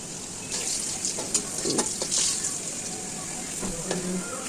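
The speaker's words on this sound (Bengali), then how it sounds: "ওই মাছ ভাজা তেলেই আমি আলুগুলো ভেজে নিব।" Potatoes fry in oil left over from frying catla fish, making a close sizzle broken by bursts of spattering and scraping stir strokes across the pan.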